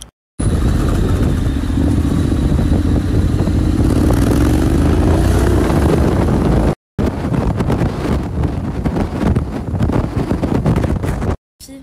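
A motorcycle rides along with a continuous engine roar buried under heavy wind buffeting on the microphone, cutting out briefly twice.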